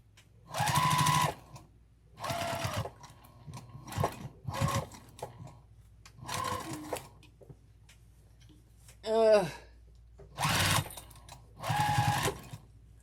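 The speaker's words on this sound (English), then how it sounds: "I'm top stitching at the wrong size" Short bursts of a sewing machine top stitching a crossbody bag, each run a second or so long with quiet gaps between them and a brief squeaky whine partway through.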